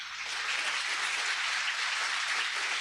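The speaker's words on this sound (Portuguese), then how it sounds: "Aplauda bem forte ao Senhor." A church congregation applauds in a steady, dense wash of many hands clapping at once, moderately loud and continuous for a few seconds with no voices standing out.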